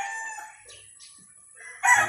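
A gamefarm stag rooster crows nearby, a drawn-out call that fades, followed by a sharp louder burst at the end.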